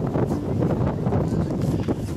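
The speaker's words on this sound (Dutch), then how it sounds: "Nou, hier waait het wel, jongens" Strong wind gusting outdoors along a long dyke road near open water in the Netherlands, a steady loud roar buffeting the microphone throughout with no other sounds standing out.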